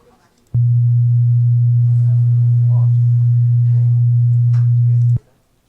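A pure sine test tone at a set low frequency, around 120 hertz, starts abruptly, holds loud and perfectly steady for about four and a half seconds, then cuts off, with faint room noise around it.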